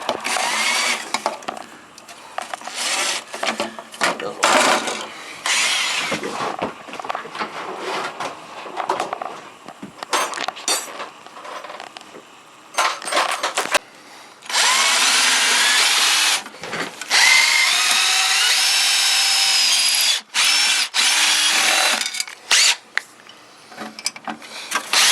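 A power drill bores into the metal casing of an old Telex cassette tape copier being scrapped, grinding loudly in long bursts broken by short pauses, with ratcheting mechanical clatter between runs.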